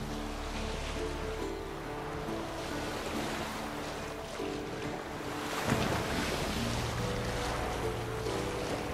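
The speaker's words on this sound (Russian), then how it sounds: "Отклонись немножко от ветра, у тебя парус хлопает." Boat sail flapping in strong wind at sea in The Witcher 3, a continuous roar of wind and waves with fluttering canvas that swells louder toward the end, no voices.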